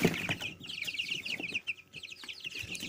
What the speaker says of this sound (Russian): Посмотрите, как эти цыплята, когда я их переносил, они даже пытались сбежать с инкубатора.